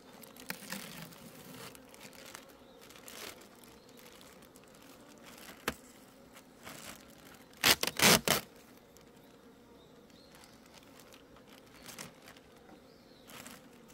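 Honeybees at the last surviving beehive give off a faint, scattered buzz, with a few sharp crinkling and rustling bursts near the middle and nobody talking.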